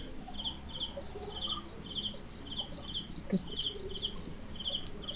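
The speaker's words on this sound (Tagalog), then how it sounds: "Maririnig nyo, guys, mga kuliglig" Crickets chirp in a fast, steady pulsing rhythm, close and clear against a quiet night background in a cemetery.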